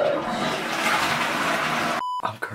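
A toilet flushes loudly at close range in a home bathroom, a steady rushing wash of water that cuts off abruptly near the end, followed by a few faint trickles.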